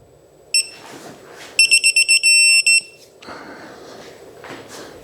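One short high beep, then a quick run of rapid beeps merging into a brief solid tone from a digital torque wrench reaching torque, followed by quiet shuffling noise.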